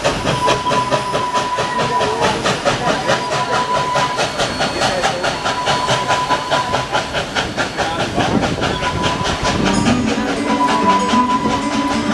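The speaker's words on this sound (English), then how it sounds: "we'll listen to the engine as she makes her way up the mountain" A steam locomotive climbing a mountain labors steadily, with rhythmic chuffing, hissing steam and rolling wheel clatter, loud and continuous throughout.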